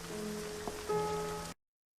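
Rain falling on a park bench scene in a TV drama, a steady wash of rainfall mixed with a low musical hum and tones, ending abruptly after about a second and a half.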